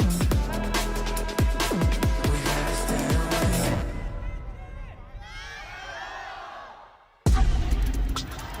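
Stadium crowd at a VCT Masters Shanghai esports playoff match between Team Heretics and EDG, a large mass of cheering and roaring under loud music and sound effects, swelling and fading before the music cuts back in.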